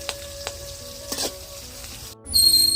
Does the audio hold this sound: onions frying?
yes